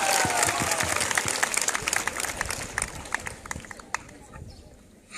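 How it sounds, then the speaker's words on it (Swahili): An audience at a political gathering breaks into applause, a dense patter of many hands that is loud at first, then thins and fades toward the end, with voices mixed in. "Tumpigie makofi."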